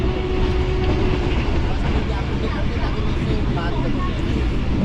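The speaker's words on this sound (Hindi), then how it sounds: "तो ट्रेन हमारी आगे बढ़ रही है" A Green Line passenger train runs near Gakhar Mandi on the Lahore to Rawalpindi route, its loud, continuous rumble and track noise filling the interior, steady and close throughout.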